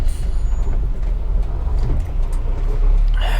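A Wright double-decker bus drives through Manchester streets, heard as a loud, steady, low engine rumble with road noise close by and a slight rise in intensity near the end.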